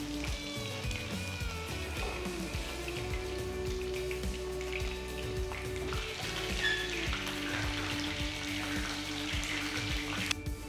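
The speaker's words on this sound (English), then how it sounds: "Shallow fry them on medium flame. Make sure the soya chunks are nice and crispy." Soya chunks shallow fry in oil in a pan over a medium flame, making a steady crackling sizzle like light rain, with occasional pops and faint stirring, close and continuous.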